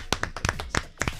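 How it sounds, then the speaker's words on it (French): A handful of hand claps, about six or seven, struck at an uneven pace close by, fairly soft in a quiet room, with no one speaking. "Je t'applaudis."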